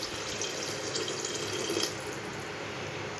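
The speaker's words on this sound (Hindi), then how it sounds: "अब इसमें गलाने के लिए पानी डालेंगे" Water pours steadily into a pot of browned meat being cooked down for a rice dish, a continuous, even splashing rush at moderate volume with no talk.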